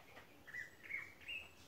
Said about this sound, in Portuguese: Aí, ó, sabiá do campo.